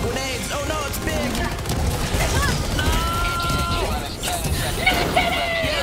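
Grenade blasts and heavy gunfire in the co-op shooter Helldivers 2, a dense, continuous battle din with booms and rattling shots layered over shouting voices throughout.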